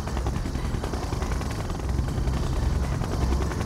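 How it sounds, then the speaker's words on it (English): Soviet siege chopper from Red Alert 2: Yuri's Revenge, a steady, loud helicopter drone with rapid rotor thumping that stays constant and slightly swells toward the end, with no speech. "Siege chopper checking in."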